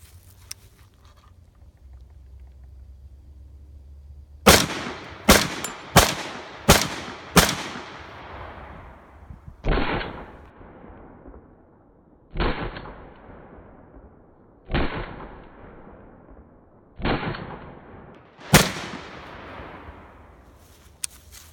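Nine sharp, loud gunshots from an Aero Precision AR pistol chambered in 7.62x39, a rapid burst of five followed by four more spaced shots, each with a ringing outdoor decay.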